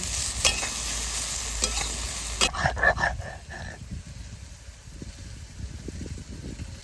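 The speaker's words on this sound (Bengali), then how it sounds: "ঝিঙেটা একটু ভালো করে ভেজে নেব" Ridge gourd pieces fry in a pan while being stirred, with scraping strokes and a dense sizzle over the first half that quietens to a softer, steady frying hiss.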